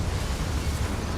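A Bombarda or Confringo blast spell goes off in Hogwarts Legacy: a dense, rumbling burst of explosive noise filling the whole short moment at a steady, fairly subdued level.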